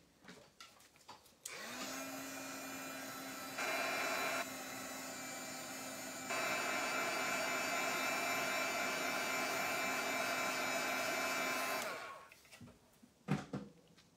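A heat tool dries Pentart mixed media paint on a Christmas craft piece: a steady, close blowing whoosh runs for about ten seconds, stepping up in level partway through before cutting off, with faint handling noises around it.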